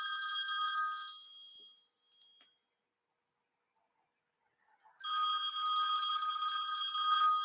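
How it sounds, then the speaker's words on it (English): A telephone bell rings in two bursts, a sustained metallic trill that stops, leaves a few seconds of near silence with a faint click, then starts again loud and close; no talking. "Turn the phone off."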